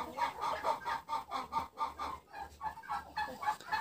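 A black broody hen clucks in a steady run of soft, repeated calls close by, with faint low background noise and no talk.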